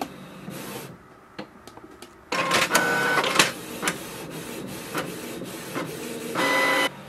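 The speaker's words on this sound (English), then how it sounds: "it will directly send the command for the printer and it will start the printing" A Canon Pixma TS3450 inkjet printer prints a page: whirring feed motor, clicks and clunks of the print head shuttling, bursts of mechanical rattle in uneven pulses, close and fairly loud with no talk.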